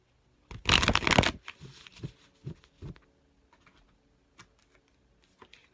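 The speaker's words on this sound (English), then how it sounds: "this card just popped out as I was shuffling this other deck" A deck of cards is shuffled in one loud, close riffle burst, followed by softer scattered taps and card handling.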